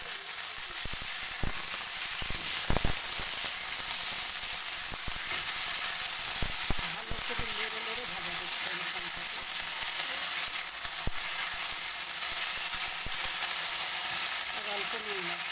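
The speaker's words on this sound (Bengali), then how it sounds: "রসুনটা আমার লাল করে ভাজা হয়ে গেছে, এবার আমি শাকটা তুলে দেবো" Sajana greens sizzle in hot oil with garlic fried until red, giving a steady close frying hiss with occasional stirring clatters and a voice speaking now and then.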